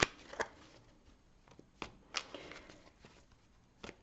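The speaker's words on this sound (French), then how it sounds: "On va d'ores et déjà recouvrir ces cartes" Tarot cards being gathered and covered on a table, a handful of crisp, close slaps and shuffling flicks spaced irregularly, with soft rustling between them and no voice.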